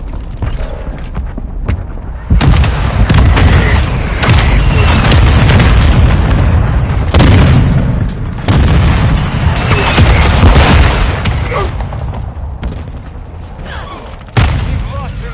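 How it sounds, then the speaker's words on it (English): Friendly mortar rounds land in Call of Duty Modern Warfare 2 as a series of loud, deep booms, with several heavy blasts spaced across a sustained roar of explosion and debris noise. "Friendly mortar strike on the way."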